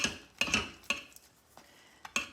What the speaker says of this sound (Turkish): Kremamızı ilave ederken de karıştırıyoruz.